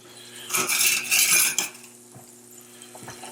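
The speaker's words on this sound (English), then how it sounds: "I'm just pushing against the base of the pan with a spoon." Metal spoon scrapes and clatters against the bottom of a sizzling pan of tomato pasta sauce in a loud burst, then a few softer clinks follow.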